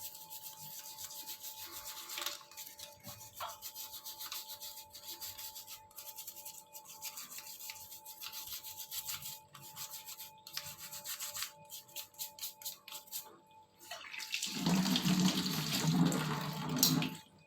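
A crab being scrubbed clean with a brush under plain running water, a steady close rubbing and rasping over trickling water, growing louder and more splashy near the end with no talking.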